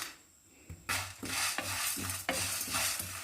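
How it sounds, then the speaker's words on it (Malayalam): Whole spices (cloves, cardamom, nutmeg, mace, black pepper, fennel and cumin) being dry roasted and stirred in a pan, with rhythmic scraping strokes about twice a second and a faint crackle between them, close up. "ഇതെല്ലാം ഒന്നും കൂടി വറുത്തെടുത്തിട്ട് വരാം."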